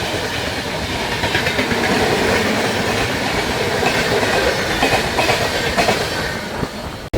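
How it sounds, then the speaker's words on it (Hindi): An Andhra Pradesh Express passenger train rushes past on an Indian railway line, a loud, close, continuous roar of wheels with rhythmic clickety-clack across the rail joints, heard alone without talk. "ये निकली अपनी आंध्र प्रदेश एक्सप्रेस।"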